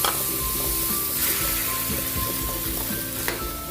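Ground pork and sotanghon glass noodles are stir-fried together in a pan, giving a strong, continuous close sizzle with occasional scraping stirs.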